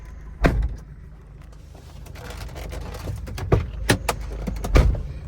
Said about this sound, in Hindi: ये जो डोर्स है ना भाई आवाज़ करते हैं